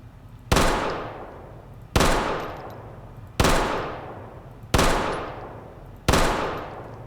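Gunfire in the Project Zomboid video game: five loud single shots spaced evenly about a second and a half apart, each a sharp crack that fades into a ringing tail.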